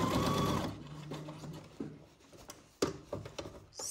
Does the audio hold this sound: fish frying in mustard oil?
no